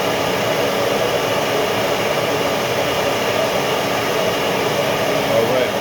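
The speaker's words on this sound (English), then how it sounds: "fine tune it on the rigid oscillating sander. First, I'm going to hook up my vacuum to it" A Ridgid oscillating spindle sander runs with a shop vacuum hooked up, giving a loud, steady whirring roar that holds evenly from start to finish, with no voices over it.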